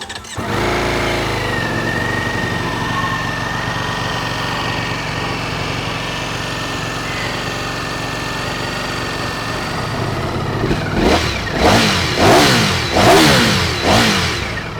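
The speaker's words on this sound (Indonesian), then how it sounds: "Oke, sekarang kita langsung aja nyalain motornya ini." A 2025 Ducati Panigale V4S with an aftermarket exhaust starts up and settles into a steady, loud idle, then breaks into several sharp, rising revs near the end, heard up close with no talking.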